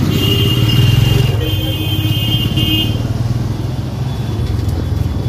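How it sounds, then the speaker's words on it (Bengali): Heavy road traffic stuck in a jam, with cars and motorcycles idling and creeping close by in a dense, continuous engine rumble that stays loud and steady throughout. "রাস্তায় আজকে ভীষণ জ্যাম।"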